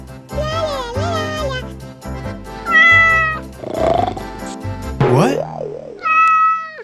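A cat meows several times in a row, with drawn-out, wavering cries over light background music and jingling. A voice speaks briefly between the meows.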